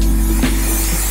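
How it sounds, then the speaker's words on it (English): Silicone spray hissing from an aerosol can onto a calibration tube for a trenchless sewer pipe repair, one loud close continuous burst over a low steady hum. "we're gonna spray it with some silicone spray"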